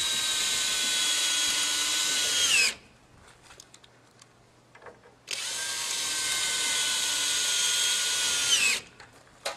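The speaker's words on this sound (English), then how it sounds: "Drill two of the lag bolts directly into the side." A power drill drives lag bolts into the side of a dock ramp saddle, two long, loud, steady whirring runs, each winding down at the end, separated by a few seconds of quiet handling noise.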